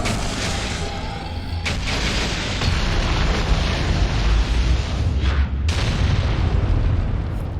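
Bomb explosions in the video game Dragon Age Inquisition, heavy booming blasts and rumbling bursts layered densely over several seconds, loud and close, with a couple of sharp sweeping impacts.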